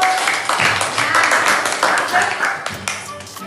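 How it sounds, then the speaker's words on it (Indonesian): An audience in an Indonesian computational-thinking lesson bursts into scattered clapping, a dense patter lasting a few seconds while a voice keeps talking over it. "tepuk tangan buat Mas Vito"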